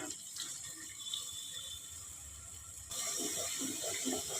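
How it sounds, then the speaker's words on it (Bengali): Water poured into a mixer grinder jar to rinse it, a close splashing trickle that grows louder in the second half, with no talk. "মিক্সিটা ধুয়ে একটু জল দিয়ে দেবো।"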